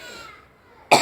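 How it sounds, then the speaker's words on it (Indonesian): A single sharp human cough bursts out near the end, loud and close, after a stretch of faint room noise. "maaf ya batuk."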